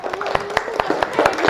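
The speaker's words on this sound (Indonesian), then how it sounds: "Tepuk tangan dulu kelompok ke-6." A classroom applauding group 6, a brief burst of quick scattered hand claps from a group of students close by, with voices mixed in.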